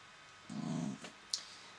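A dog growls indoors at something through a window, a short low rumbling growl close by, followed by a brief faint sound and a small click in an otherwise quiet room.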